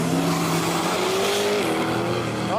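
Drag race car at a Quick Street event launching hard, engine roaring loud and close as the tires squeal, with a brief pitch shift partway through and continuous mechanical noise throughout.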